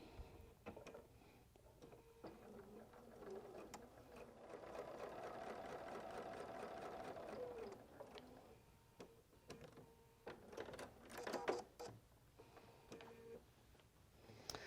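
A quilting sewing machine stitches shark's teeth quilt fabric along a marked line, a faint rhythmic whirr that speeds up and slows between pauses, with a few soft handling knocks and no talking.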